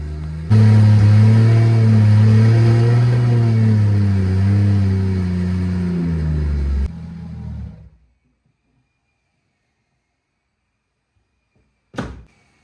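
A loud Nissan Z car engine runs and revs steadily up close, then cuts off into silence, followed by a single short thump.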